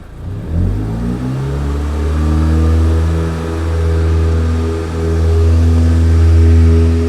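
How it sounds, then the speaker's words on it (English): A car engine is held at high revs during an engine carbon clean, a high, steady pitch rising and dipping slightly in a continuous loud drone, with no voices. "we're just going to hold the revs up a bit"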